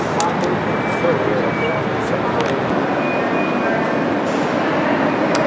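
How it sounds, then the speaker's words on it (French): A subway train runs at a metro station in Athens, its dense, loud rumble and rail roar filling the whole stretch, with a few faint high squeals on top. "Voilà la station de métro de Singtakma"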